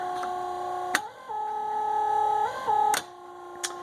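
An electric windshield wiper motor on a Polaris Ranger midsize utility vehicle whirs with a steady tonal hum, shifting pitch briefly as it cycles, punctuated by a few sharp clicks; quiet and close.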